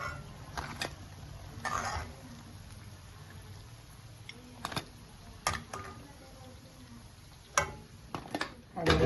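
Ajwain leaf bajji frying in hot oil, a quiet continuous sizzle broken by sharp clicks and crackles and occasional utensil taps, close by, with louder scraping bursts toward the end.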